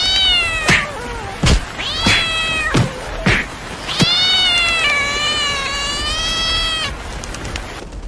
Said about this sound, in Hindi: अरे ये खतरनाक बिल्ली इतनी जोर जोर से आवाजें क्यों निकाल रही है?